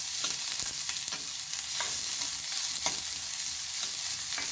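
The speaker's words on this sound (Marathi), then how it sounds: "आपण हे 2च मिनिट छान परतून घ्यायचं आहे." Peas and carrots sauté in a pan for ragi soup, a steady close sizzle with repeated scraping and clinking of a spatula stirring, no voices.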